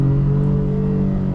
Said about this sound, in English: You definitely have to wait for the engine to build up speed to get moving.